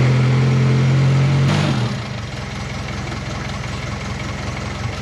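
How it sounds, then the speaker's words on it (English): A Classic Mini's engine runs at a steady close idle, a low rhythmic chug that settles in after a louder, tonal start, with no one talking. "let's switch the car on and hope that we fix the problem"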